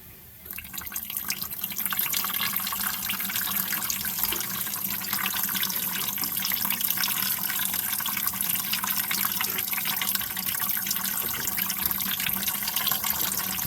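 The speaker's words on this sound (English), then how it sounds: "So, flush some diesel down through there." Diesel fuel pours and splashes steadily through a Case 2590 tractor's powershift transmission in a continuous hissing gush, close and loud, after a brief quieter start.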